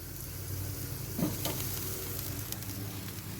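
Leg of lamb sizzles steadily on an Expert Grill, a close, continuous frying hiss with a few faint pops and scrapes and no voices.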